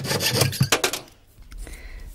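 A metal piece being cut out by hand, with a run of rough, rhythmic rasping strokes up close that gives way to quieter scraping and a low rumble near the end.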